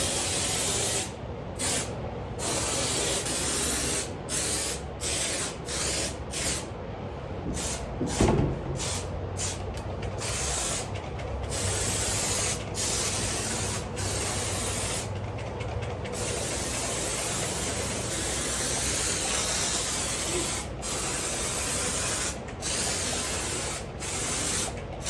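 Beest Fullstop spray foam insulation being sprayed overhead between framing bays, a loud continuous hiss interrupted by brief pauses and bursts, close to the microphone with no talking.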